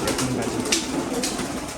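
Low cooing from a flock of house pigeons settled after flying on a rainy day, a steady murmur close by with a brief wing-flutter, and no voices.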